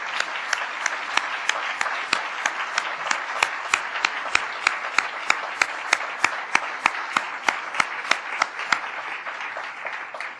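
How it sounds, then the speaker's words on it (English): An audience gives a big round of applause for global entrepreneurship ambassadors during a speech by President Barack Obama. The clapping is full and sustained, with sharp individual claps standing out above the crowd. "I want to just give them a big round of applause"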